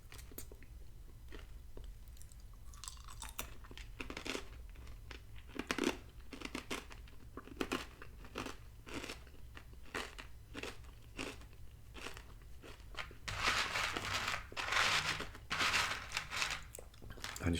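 Catalina Crunch cinnamon toast protein cereal being chewed close up, a long run of crisp, irregular crunches and bites, louder and denser toward the end, with no one speaking.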